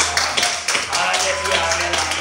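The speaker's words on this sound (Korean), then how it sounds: "자 하나님께 영광의 박수를 올렸습니다" Church congregation at a Sunday morning service clapping together in praise, a steady wash of many hands applauding in a large room, with voices heard over it.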